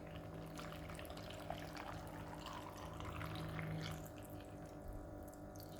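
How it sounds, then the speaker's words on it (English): Water poured into a homemade apple, ginger and mint juice, a steady, fairly faint running splash lasting several seconds with a slight swell midway, heard alone without talk. "Then I'm going to add just water."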